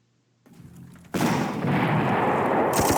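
Artillery fire in the wartime strategy game Panzer Corps: a soft rumble followed by a sudden loud, sustained blast of booming, crackling fire that fills the rest of the moment, with a sharp hiss near the end.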